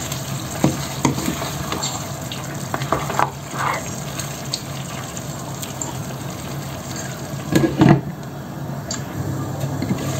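Meat fries and sizzles in a pan for a Bengali vegetable-and-meat chow chow as it is stirred. A constant hiss runs under intermittent scraping stir strokes, with a louder clatter near the end.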